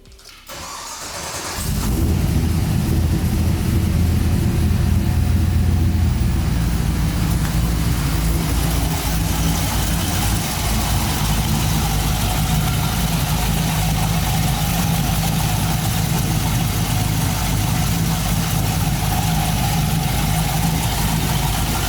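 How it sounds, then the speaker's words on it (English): A Toyota 80 Series Land Cruiser with a manual LS2 V8 conversion cranks briefly, catches and settles into a loud, steady, rumbling idle that runs on alone for about twenty seconds. "and we'll fire her up."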